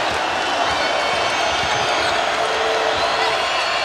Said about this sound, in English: Loudest the crowd has been in quite some time.